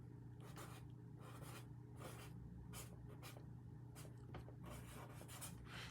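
Pen scratching across paper in short repeated strokes, close and faint, with rhythmic bursts of soft rasping over a steady low hum.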